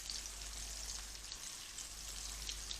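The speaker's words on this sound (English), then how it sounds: "So just wait for this flounder to fry off." Flounder frying in a pan for a Samoan meal gives off a steady, even sizzle and crackle. The sound holds close and constant throughout, with no talk over it.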